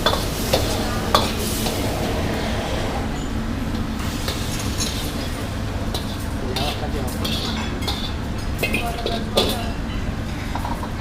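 Food stir-fried in a pan at a cafe in a shopping mall, with continuous sizzling and repeated clanks of a utensil scraping the pan, while people talk nearby.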